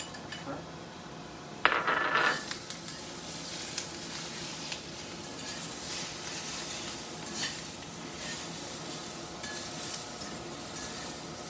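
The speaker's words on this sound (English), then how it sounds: "That's stir frying up." Shrimp stir-frying in a hot pan for umami noodles, a steady close sizzle with a brief metallic clatter early on, then continuous frying hiss throughout.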